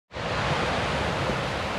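Flowing Hrasnica river on a mountain hike, a loud steady rush of water that starts abruptly and continues as dense, unbroken noise.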